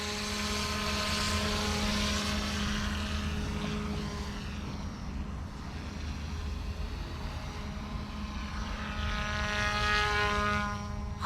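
GOOSKY S1 RC helicopter flying at high head speed, a smooth, steady rotor whine and buzz that holds close and loud throughout, swelling slightly near the end, with no talking.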